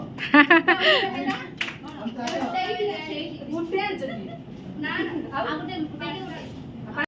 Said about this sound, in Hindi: ताली ताली चलो